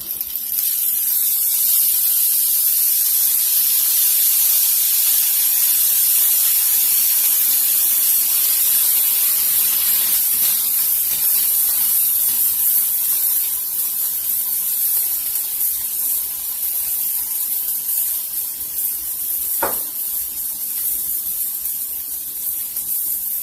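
A hot pan hisses loudly as hot sauce hits it, a bright steady spray-like sizzle that gradually softens, with a single sharp spit near the end.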